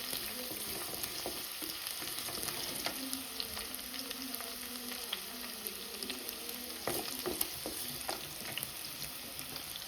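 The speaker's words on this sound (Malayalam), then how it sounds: "നല്ലതുപോലെ ഇനി നമുക്ക് ഇളക്കി കൊടുക്കാം" Garlic and ginger stir-frying in a pan, a continuous close sizzle with irregular scraping and clinking as the mixture is stirred.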